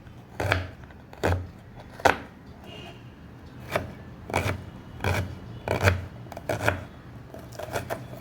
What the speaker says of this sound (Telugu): ఉల్లిపాయలు చిన్న చిన్న ముక్కల కింద కోసుకొని